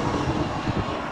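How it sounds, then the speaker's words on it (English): Airplane passing overhead outdoors, a loud steady broadband engine roar filling the whole moment with no talk over it. "As an airplane passes by."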